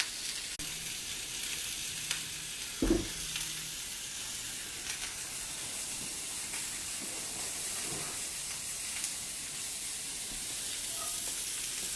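Asparagus frying in a pan for a breakfast dish alongside onions and squash, producing a steady, even sizzle throughout with a brief knock near the start.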